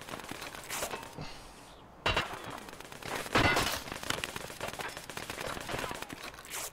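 Gunfire in the video game Escape From Tarkov crackles in bursts and rapid volleys, some sharp and near, others more distant, with brief quieter gaps.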